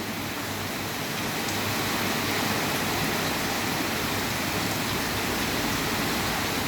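Rain pours down as a steady, heavy hiss that fills the whole stretch evenly, with no voices.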